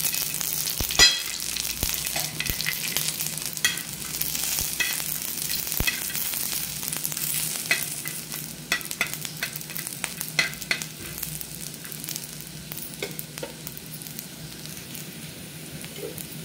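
Dried grated coconut roasts in a little oil in a pan for misal pav masala, a steady close sizzle broken by scraping and stirring strokes, with no talk.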